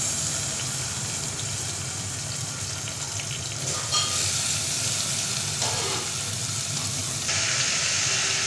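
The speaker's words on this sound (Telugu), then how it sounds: "1/2 కేజీ చికెన్ వేసుకోండి." Chicken frying in a pan with ginger garlic paste gives a steady loud hiss of sizzling oil, with a brief surge partway through as more goes into the pan.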